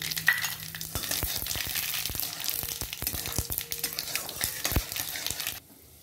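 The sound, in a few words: mustard seeds and panch phoron sizzling in hot oil for dal tempering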